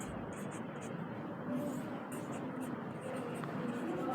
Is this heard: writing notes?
yes